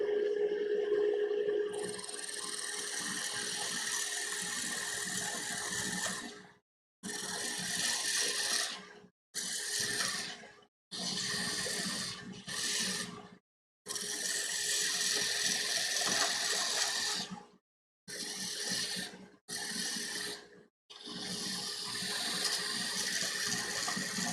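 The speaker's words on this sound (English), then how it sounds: "let's grab our parting tool. We're going to go to the left of this line here." Parting tool cutting into a wood spindle on a lathe, a steady, loud scraping hiss that runs in repeated bursts separated by abrupt silences as the cut starts and stops.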